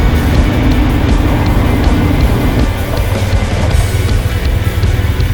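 BMW R1150R motorcycle riding south on a byway toward the Snake River in open southwest Idaho, a steady loud engine drone with heavy wind rush throughout, no voices.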